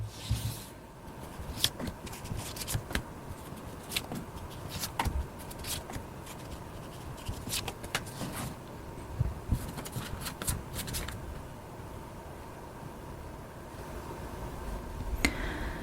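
Tarot cards being shuffled by hand, a steady papery riffling and sliding with soft taps that runs close and continuous throughout, with no talking.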